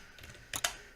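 Two quick keystrokes on a computer keyboard, close and crisp, with a faint clatter before them and no voices.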